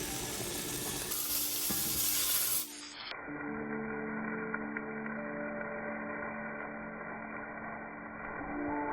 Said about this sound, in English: we're going to try cooking it in the Hexclad tonight. And I hope this steak makes you hungry